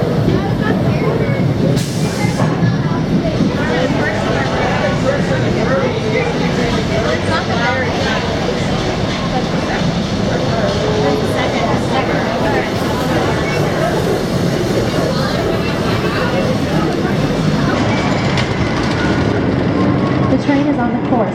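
An old Kennywood amusement park ride train runs its course, a loud continuous rumble and rattle of wheels on track sustained throughout with no pause.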